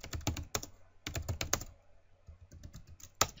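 Typing a command into the Windows command prompt on a computer keyboard: close, crisp bursts of key clicks in short groups separated by brief pauses, ending with one sharper key strike.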